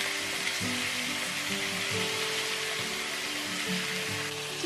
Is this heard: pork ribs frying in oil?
yes